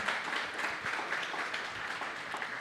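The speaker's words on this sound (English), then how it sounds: "I think you guys can give him a round of applause for that." An audience claps for a Member of Parliament after a talk, a steady, even patter of many hands at moderate volume with no voices over it.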